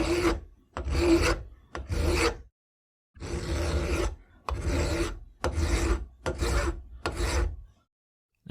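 A hand file rasps across a small metal revolver loading gate clamped in a vise, about eight firm, rhythmic back-and-forth strokes separated by short pauses, close and clear.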